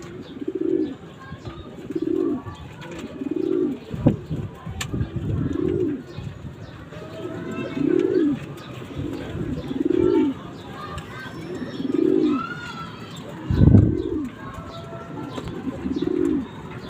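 Young pigeons coo in a backyard loft in soft, repeated low phrases about every two seconds, close by. A sharp thump and a louder burst near the middle break the steady rhythm of the calls.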